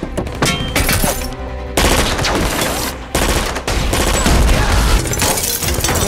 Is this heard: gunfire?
yes